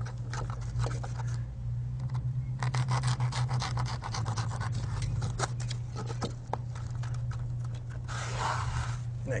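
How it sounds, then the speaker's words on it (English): A knife trims the back side of foam backer rod pressed into a log-wall gap, giving close, scratchy cutting and rubbing strokes over a constant low hum, with a brighter scraping burst near the end. "I'm going to take my knife, trim just a little bit off the back side of the backer rod"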